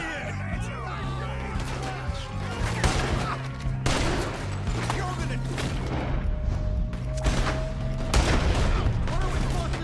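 Gunfire from the video game Red Dead Redemption 2: repeated sharp shots and bursts ring out close and loud over about ten seconds, mixed with booms, crashes, music and background game sounds.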